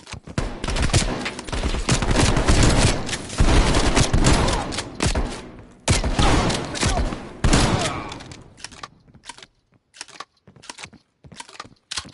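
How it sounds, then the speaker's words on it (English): Dense, loud gunfire in Call of Duty Black Ops Cold War, a sustained fusillade of overlapping shots that breaks into separate sharp bursts toward the end. "They're shooting at us!"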